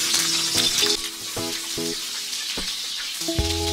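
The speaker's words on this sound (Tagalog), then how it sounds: "magigisa na tayo ng sibuyas" Onions sautéing in a pan, a loud continuous sizzle and crackle close up, with occasional short tonal clinks of utensils against cookware and no voices.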